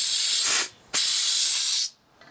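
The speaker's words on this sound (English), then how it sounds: "I don't like these sleeve valves because they always leak." Compressed air hisses loudly from a leaky sleeve valve on a mini air tank in two close bursts, a short one and then a longer one, separated by a brief pause.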